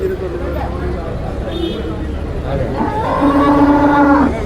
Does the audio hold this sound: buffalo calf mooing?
yes